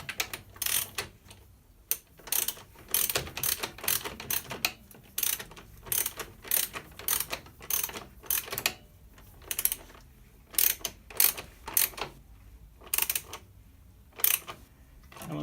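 Ratchet wrench clicking in repeated bursts as bolts are torqued down on crash protection for a KTM Duke motorcycle, close and crisp, with short pauses between strokes and no talk.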